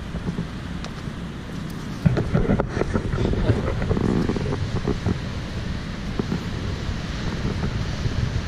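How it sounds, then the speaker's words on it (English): Surf pounds the shore below the La Jolla bluffs near Seal Cove, a big set of waves rumbling and washing in with a steady roar, muddied by wind buffeting the microphone. "That was a big set of waves that just came through there."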